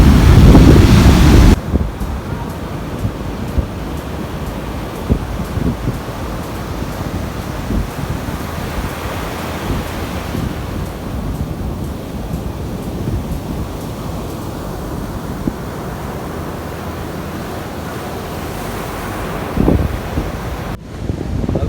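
Wind buffets the microphone at Ujung Genteng beach in West Java while ocean surf rolls steadily underneath, with a brief louder gust at the start and no voices.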